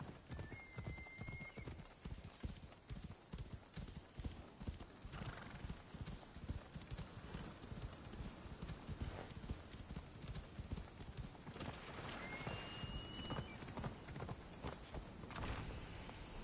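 Steady clip-clop of hooves in Assassin's Creed Odyssey runs throughout, with a couple of sharp horse whinnies standing out over the trotting.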